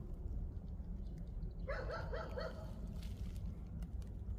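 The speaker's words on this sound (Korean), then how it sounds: "걔들 왜 저렇게 짖고 있어?" Dogs bark outdoors on a bitterly cold, freezing day. A short run of four or five quick yips rises over a constant low rumble, followed by fainter, scattered sounds.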